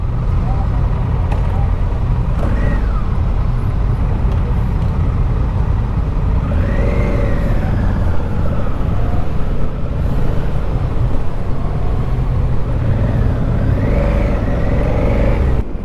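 A Honda motorcycle, a Transalp, Hornet or Africa Twin, accelerating on the road, its engine note rising in several surges over steady wind rush and a continuous rumble.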